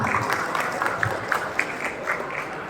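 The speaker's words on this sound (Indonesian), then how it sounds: "Tepuk tangan untuk kita semua." A crowd claps steadily throughout, a dense patter of applause with no clear breaks.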